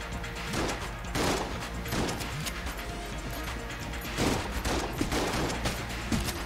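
Rapid bursts of video game gunfire and bullets from Enter the Gungeon, dense overlapping shots and impact cracks firing almost continuously, with heavier blasts clustered at several points.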